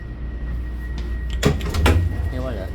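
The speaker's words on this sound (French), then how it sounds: "Et voilà, tous les portes marchent." On a new Germaine Tillion tram, sliding doors swish and thump in quick succession at close range over a steady rumble, with a faint voice near the end.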